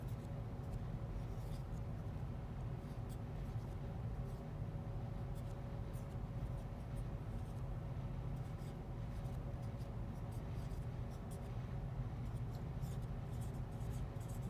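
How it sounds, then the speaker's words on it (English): Writing on a board in a lecture setting, faint scratchy marker or chalk strokes over a steady low room hum. "So I'll write that on the top of this board"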